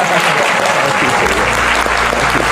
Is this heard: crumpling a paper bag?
no